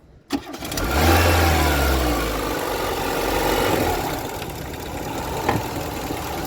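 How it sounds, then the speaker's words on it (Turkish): A Renault Scenic car with a fully rebuilt engine cranks and fires up with a sudden catch, then revs in a low, rising roar before settling back toward a steady idle, close and loud, with no talking. "Evet çalıştıralım arabayı."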